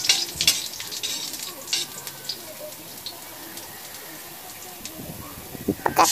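Garlic sautéing in a pan for paksiw na pata, a soft crackling sizzle under occasional spatula clatter and stirring knocks, fairly quiet throughout.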